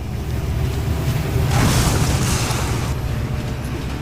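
A train rushes past beside a railway track and strikes someone in a staged horror drama: a low rumble swells into a loud roaring whoosh midway, then eases off, with no voices.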